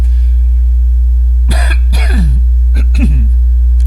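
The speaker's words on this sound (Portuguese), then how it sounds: "deu um pouquinho de tosse hoje" A man in a classroom coughs and clears his throat in a few short, rough bursts close to the microphone, separated by brief pauses over a steady low hum.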